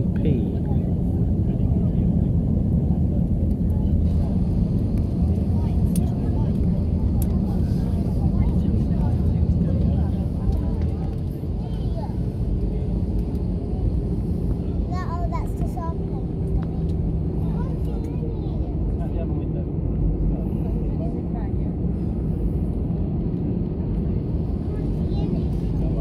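A passenger jet landing at Las Palmas airport on Gran Canaria, heard from inside the cabin as a loud, steady roar with rumbling throughout that eases slightly partway through.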